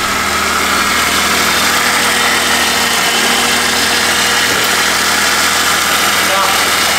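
An old car's 325 engine idles close by with a steady, rough mechanical hum and vibration. Voices talk faintly over it.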